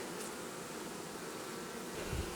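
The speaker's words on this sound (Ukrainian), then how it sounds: "ось така кількість бджіл у мене на руках" Honey bees buzzing around a beekeeper's hands at an alpine hive, a faint, continuous, even drone without voices.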